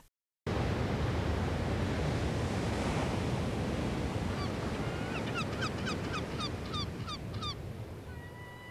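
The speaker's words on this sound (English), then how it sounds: "The sea is loud" Loud sea waves roar as a steady, broad wash of surf that fills the scene, while geese honk repeatedly in the middle distance partway through.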